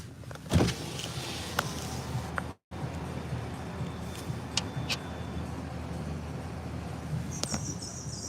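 A passing car makes an odd mechanical whine and rattle over steady street noise and insects, with a few sharp clicks and a brief dropout.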